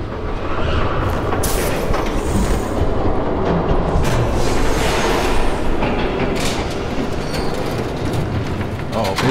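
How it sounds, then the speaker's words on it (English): A train in Batman: The Telltale Series approaches with a loud, continuous rumble and rhythmic clatter of wheels on track, rolling and booming over several seconds. "There's a train coming."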